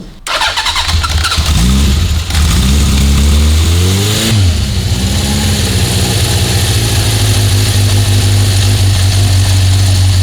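A 1976 Honda CB750F1 motorbike is started from cold: a brief crank catches, the engine revs up and down a couple of times, then settles into a loud, steady idle close by.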